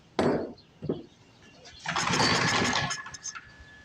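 A 1940s Briggs and Stratton Model N engine being pull-cranked by rope, giving a couple of short scraping pulls followed by a longer rasping crank that fails to catch.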